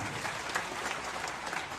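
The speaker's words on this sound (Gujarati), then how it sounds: "એટલે તાળીઓ ભાઈ બધા" Audience at a community gathering applauding a cash donation announcement, a dense steady patter of many hands clapping at moderate distance with no voices over it.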